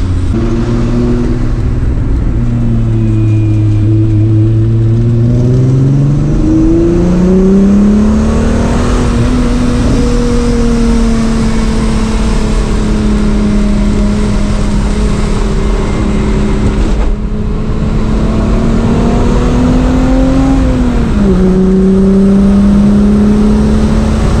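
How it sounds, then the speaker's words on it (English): An MK3 Jetta fitted with H&R front and rear sway bars and Nankang NS2R tires drives at about 30 mph into a corner, its engine tone steady and loud, then rising and dipping through the turn, with heavy road and wind noise and no talking. "Take two for our corner test. Going to be going 30 miles an hour like before, and right into the turn."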